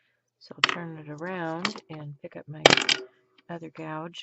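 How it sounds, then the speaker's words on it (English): A wood carving gouge is set down on a desk with a sharp, hard clunk amid close talking, with a few lighter knocks of tools being handled around it. "These things do clunk when they hit the desk."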